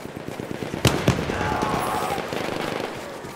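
Enemy machine gun fire in a Battlefield 1 team deathmatch: two sharp loud cracks followed by rapid rattling shots with a voice calling out over the battle noise.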